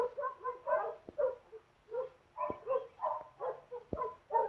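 A big dog in a 1947 film gives a series of short, rhythmic yelping barks mixed with high whimpers, moderately close, with a few sharp clicks between them.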